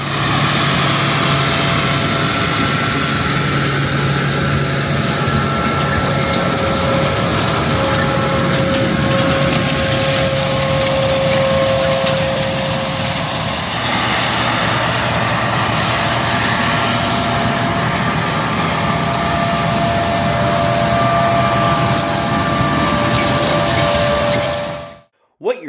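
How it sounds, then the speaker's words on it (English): A John Deere 9R 640 tractor on LSW tires pulls a Deere DB90 planter set for 20-inch rows planting in an Ohio field, producing a continuous loud engine drone that rises and falls slightly before cutting off. "a Deere 9R 640 tractor on LSW tires, pulling a Deere DB90 planter on 20-inch row spacing"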